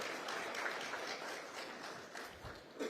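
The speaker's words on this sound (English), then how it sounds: "a big round of applause once again for Ricky Cage." Audience applause at a sustainability conference in India, a steady, fairly faint wash of many hands clapping for about three seconds, heard from a distance in a large hall.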